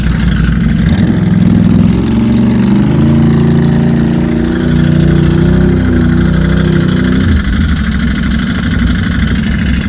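A Can-Am Renegade ATV engine runs steadily and loudly with a deep droning note that holds and shifts slightly for about eight seconds, then drops back toward idle near the end, with no talking.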